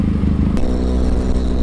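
A Benelli TRK 502X adventure motorcycle with a 500cc engine runs close by, giving a loud, steady low drone with a little clatter and no talking.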